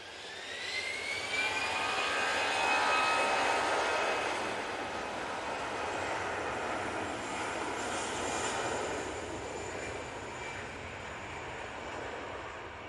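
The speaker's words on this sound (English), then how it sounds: "Brussels Airlines now coming on via Victor Bravo." A Brussels Airlines airliner arriving at Manchester Airport: a loud, sustained jet engine roar with a rising whine that swells and gradually fades over several seconds, heard from a distance outdoors without speech.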